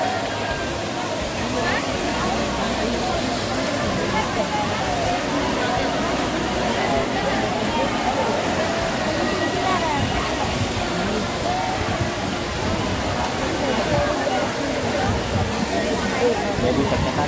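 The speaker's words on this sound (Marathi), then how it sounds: "जस्ट आम्ही आता जवळच आलेलो आहोत धबधब्याच्या." Zenith waterfall at Khopoli rushes continuously in the background while people talk nearby amid a crowd's chatter, the water's broad steady roar running under the voices throughout.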